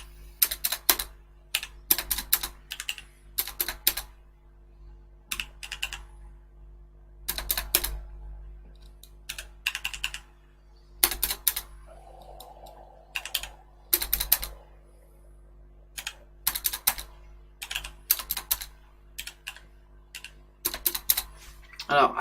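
Quick bursts of typing on a computer keyboard, clustered clicking keystrokes in uneven runs with short gaps, close and clear, while a person talks over it.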